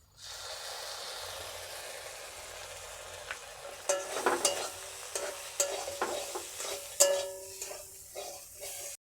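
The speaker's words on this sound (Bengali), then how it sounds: "বাদামগুলো এর সঙ্গে একটু মিশিয়ে নেব। দিয়ে দেবো 2 চামচ মতো টমেটো সস।" A pan of fried peanuts with tomato sauce, cooked for a flattened-rice breakfast snack, is stirred with scraping, sizzling strokes that start after a quiet opening and repeat irregularly, close and fairly soft.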